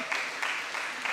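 A church congregation at a Sunday worship service claps together in steady, dense applause, a brief continuous patter of many hands.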